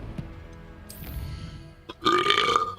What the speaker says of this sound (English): Oh my god, I do apologise, but drop a like for that belch